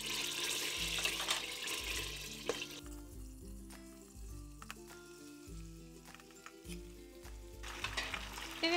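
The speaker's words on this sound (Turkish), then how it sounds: "Şimdi de makarnalarımı içerisine alıyorum." Penne pasta is tossed and stirred in hot oil and melted margarine in a pan, giving a steady sizzle with scraping stirs, heard over background music.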